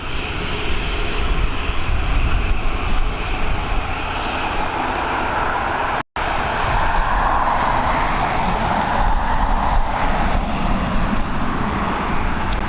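An airliner in rugby livery taxis slowly past at Dublin Airport, its jet engines a steady, loud broadband roar that holds for the whole stretch with only a momentary break partway through.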